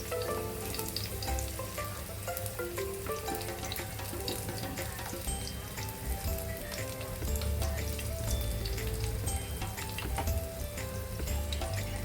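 Spoonfuls of onion and egg batter fry in a pan of oil, giving a steady bubbling sizzle over the whole stretch with occasional clinks and light kitchen sounds near the pan.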